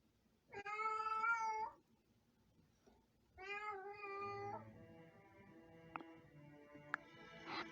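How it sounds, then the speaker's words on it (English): A house cat yowls loudly indoors, two drawn-out wailing meows separated by a short pause, followed by faint background game sounds and a couple of sharp clicks. "I don't know if you can hear how loud my cat is yelling."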